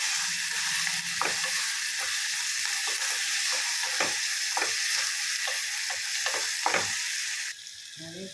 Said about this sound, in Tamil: இந்த பக்கம் லிவர் வந்து குக்கிங் ஆகிடுது. அது கொஞ்சம் வேகட்டும். வதக்கி விட வேண்டும்